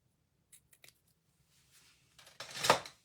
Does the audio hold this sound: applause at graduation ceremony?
no